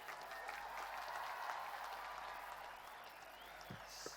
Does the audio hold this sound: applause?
yes